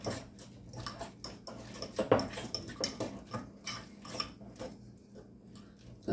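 A spoon clinks and scrapes against a bowl while crab rangoon dip is stirred together with onion powder, giving a run of quick, close taps and clatters at an uneven rhythm, with no talking.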